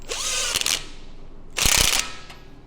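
Torque wrench tightening new tie rods on a Ford Bronco steering setup, giving two loud bursts of quick ratcheting clicks about a second apart, close up, with no talking.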